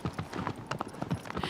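Horse hooves in the Shadow of the Colossus video game, a steady rapid clip-clop of galloping hoofbeats, loud and close, running continuously without talk.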